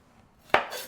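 A single sharp knife cut through a potato slice on a cutting board, trimming off a bad spot while preparing peel-on potato rounds for an Irish chicken stew, a close crisp chop after near silence.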